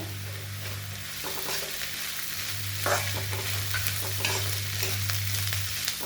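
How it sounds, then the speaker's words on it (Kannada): Field beans (avarekalu) stir-fried in a pan for masala upma, a steady close sizzle with scraping stirs running throughout, a few louder knocks near the middle, no talk. "ಈಗ ಅವರೆಕಾಳು ಹಾಕೋತಾ ಇದ್ದೀನಿ ಇಕ್ಕಿದ ಅವರೆಕಾಳು"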